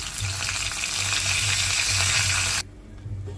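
Garlic and dried red chillies fry in hot oil for a dal tempering, a dense, steady sizzle close by, with the sound cutting off sharply near the end.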